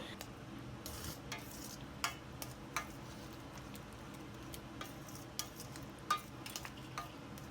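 Pav bhaji masala being stirred into pav bhaji in a pan, a quiet bubbling sizzle under scattered spoon clicks and taps against the vessel.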